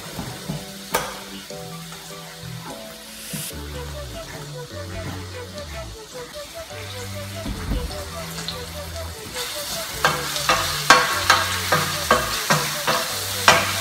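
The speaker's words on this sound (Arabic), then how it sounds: "ملي تبدا القرعة تقلى نقطعو الكالامار" Zucchini frying in a pan for a shrimp and zucchini spaghetti dish, a steady sizzle with stirring scrapes, growing louder toward the end, under background music.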